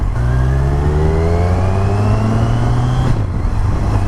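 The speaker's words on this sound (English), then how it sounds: "Tunnel exhaust." A 2016 Kawasaki Z1000 motorcycle revving hard in a tunnel, its loud exhaust rising steadily in pitch with echo before a gear change and renewed pull.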